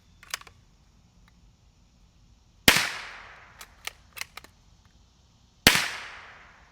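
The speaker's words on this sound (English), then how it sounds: "Now we got a Savage 22, and we'll be shooting some CCI standard." Two sharp, loud gunshots about three seconds apart ring out from a Savage .22 rifle firing CCI standard ammunition, each with a ringing decay, with a few small clicks and handling knocks between.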